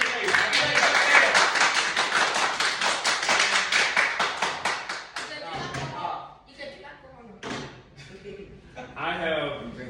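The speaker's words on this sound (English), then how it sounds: "clap it up for Mr. Hayes" A small room of people clapping in quick rhythmic bursts for a birthday, loud for about five seconds before fading into voices and scattered taps.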